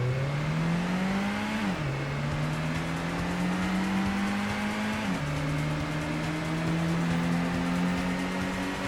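Honda Integra race car in Gran Turismo on PS1 pulling away from the line, a loud steady engine drone rising in pitch, dipping at two gear shifts and climbing again, continuous and up front.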